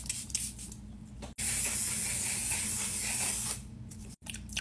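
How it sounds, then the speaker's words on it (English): Makeup setting spray hisses out in one long continuous burst lasting a few seconds, close and fairly loud, with faint rustling handling noise before and after. "I need a little setting spray"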